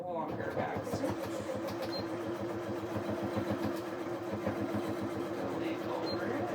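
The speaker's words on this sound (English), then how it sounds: "start with the longer back stitch." A sewing machine back stitches an apron pocket with a long stitch, a steady rapid mechanical chatter heard close but soft, with a voice talking over it.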